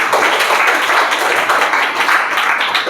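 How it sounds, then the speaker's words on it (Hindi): A group of children claps together in a classroom, a steady, dense patter of hand claps close by and fairly loud, continuing throughout. "Very good, Tali बजाइए।"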